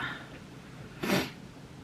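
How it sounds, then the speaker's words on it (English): A dog gives a single short sneeze, a brief close burst in an otherwise quiet room. "I do, dog. How dare you sneeze at that?"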